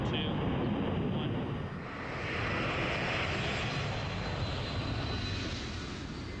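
A C5 transport plane's turbofan engines roar at full takeoff thrust, a loud, continuous broadband rumble that holds steady for several seconds with a slight dip and swell midway.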